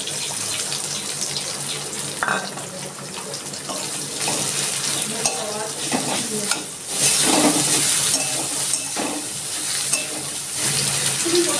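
Chopped onion tossed into prawns frying in a pan for a Bengali dish, with a steady, fairly loud hiss of oil and a few clattering stirs and scrapes throughout, no voices.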